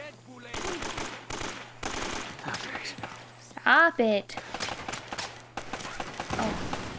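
Gunfire in Uncharted: Drake's Fortune, with bursts of automatic shots broken by pauses and a sharp whining ricochet partway through, all under excited talking.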